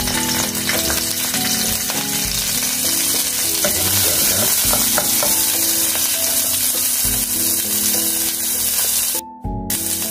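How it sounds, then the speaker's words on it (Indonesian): Loud, continuous sizzling of lemongrass and galangal frying in hot oil, close up, with occasional stirring scrapes and a brief drop near the end. "minyaknya sudah panas, masukkan ini serai dan lengkoas ya"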